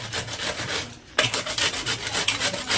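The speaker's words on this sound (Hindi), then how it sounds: "अब बंधे को मैं घिस लेती हूँ।" Cabbage rasps steadily against the coarse side of a kitchen grater in quick repeated strokes, close and loud, with a short pause before the rhythmic grating picks up again.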